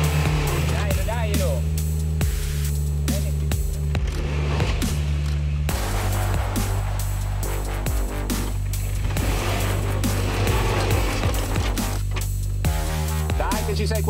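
Suzuki Jimny 2019 engine droning steadily close by through a hard off-road drive over extreme terrain, throttle eased on and off, with people talking and calling out over it.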